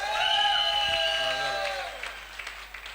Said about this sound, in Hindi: हमारे लिए तालियां बज रही है